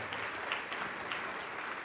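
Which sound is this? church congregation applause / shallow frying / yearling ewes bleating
church congregation applause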